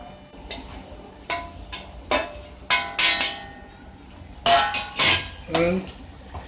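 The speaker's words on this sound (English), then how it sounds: "And give it a nice stir." A spoon clinks and scrapes against a pan while chilies and masala are stirred: separate metallic knocks and taps come in an uneven rhythm, close and fairly loud, with brief quiet gaps between strokes.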